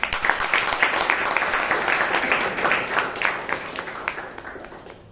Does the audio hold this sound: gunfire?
no